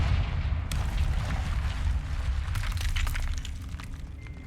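A Confringo spell explosion in Hogwarts Legacy lands with a loud burst of crackling debris and shattering bangs. Scattered sharp impacts follow over a rumbling low end, then the noise gradually thins out.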